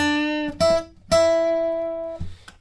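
Electric guitar playing the opening notes of a bar from a song: three distinct plucked notes, the last ringing longest before being cut off, played solo and close.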